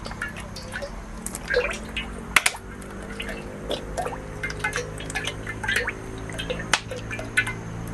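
Vegetable oil is poured into a pan on a lit stove for cooking pork. Soft, irregular drips and small liquid splashes come close by, with occasional sharp clicks in between.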